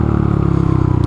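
A Honda Monkey motorcycle cruising on a Southern California freeway in third gear at about 45 mph, its small engine droning steadily and loudly close up, mixed with wind and road noise.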